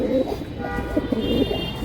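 Pigeons kept for sale and racing coo softly in a low, repeated series, with faint background murmur around them.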